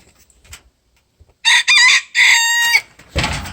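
Chickens in a backyard chicken run: a loud close rooster crow with clucking before and after, standing out against quiet surroundings.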